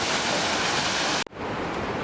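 A waterfall facing the Rudra Nag temple on the Kheerganga trek gives a steady, loud, broadband roar. It cuts out briefly midway and then resumes slightly quieter.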